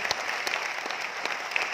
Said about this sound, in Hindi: एक बार जोरदार तालियां चाहिए इनके लिए सर